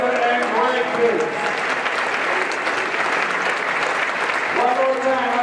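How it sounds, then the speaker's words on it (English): Gym audience at a high school varsity boys' basketball game applauding seniors and their parents: sustained, loud, dense clapping from a large crowd, with someone talking over a PA at the start and end. "how about a big round of applause for all of these seniors"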